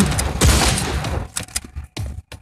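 Gunfire in the mobile shooter game Modern Combat 4: Zero Hour, a loud sustained burst of rapid shots followed by several short separate bursts, close and alone.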